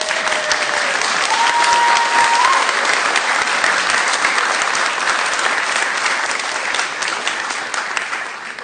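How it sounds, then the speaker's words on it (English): Applause at a city council meeting for a group of students: loud, dense, sustained clapping from the chamber audience, with a brief whistle-like tone near the start, gradually easing toward the end. "this is the time for applause for these kids."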